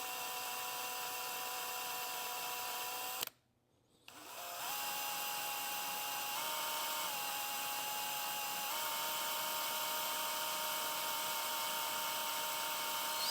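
A power drill bit bores through aluminum into nylon winch rope during a Harbor Freight winch cable upgrade. It is a steady, loud, high-pitched whine that cuts out for about a second, then resumes and grinds on evenly to the end.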